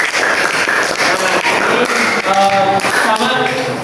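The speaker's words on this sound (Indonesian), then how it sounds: "tepuk tangan dulu untuk kelompok 1" Classroom students clap for group 1 in a close, steady round of applause, with a voice and some tapping heard over the clapping near the end.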